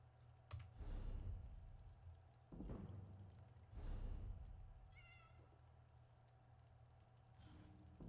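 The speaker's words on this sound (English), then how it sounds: "I heard a cat." A cat in the Elder Scrolls Online game meows several times, soft drawn-out cries amid quiet ambient game audio, with keyboard typing clicks in the background.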